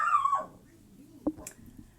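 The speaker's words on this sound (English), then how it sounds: "if you just heard her bark again" A pet dog gives one short, sharp bark near the middle of the clip, preceded by a high whining yelp, indoors during a crochet session with quiet background noise.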